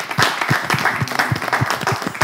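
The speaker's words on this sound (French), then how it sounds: "On applaudit." An audience applauds a group of beneficiaries at a youth ministry event, close and loud clapping with strong, fairly regular beats throughout.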